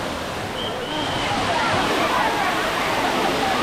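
A steady, loud roar of falling water at an artificial waterfall in a Madurai theme park, broadband and continuous throughout, with a faint whistle briefly audible over the rush.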